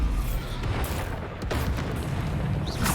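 Bombarda spell explosions in Hogwarts Legacy, repeated booming blasts over a dense rumbling battle din, with sharp impacts recurring every second or so at close range.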